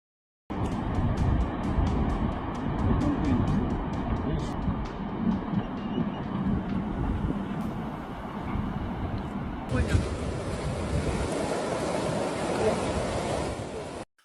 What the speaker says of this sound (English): Floodwater tears through a building and spills across the land in seconds.